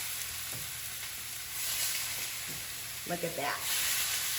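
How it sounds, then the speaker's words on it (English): Beef chuck roast and beef cheeks sizzle and fry steadily while browning in a cast iron skillet, with a few short stirring clatters and a brief spoken remark over the hiss. "I'm using a cast iron skillet. And we want to brown this meat on all sides."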